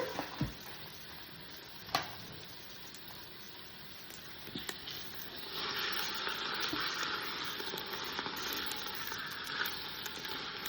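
A pork shank (rouelle) sears in a Ninja 14-in-1 cooker with a soft, steady sizzle. A few clinks come first, and the frying hiss grows louder and denser partway through.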